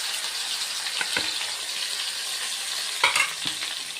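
Curry leaves and onion paste fry in a pan for a fish curry, a steady close sizzle with a few brief scraping stirs near the end.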